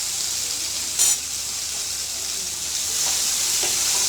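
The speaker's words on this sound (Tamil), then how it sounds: "அதை நல்லா கொஞ்சம் எண்ணெயில் வதக்கி விடணும்." Onions and green chillies sautéing in oil for tomato chutney, a steady bright sizzle throughout with a brief louder burst as the pan is stirred, close and alone with no talk.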